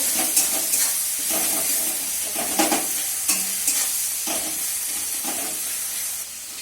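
Tomatoes and spices sizzle and fry in a pan, a steady loud hiss broken by repeated scraping stirs of a spoon at a loose, uneven rhythm, close and with no talk over it.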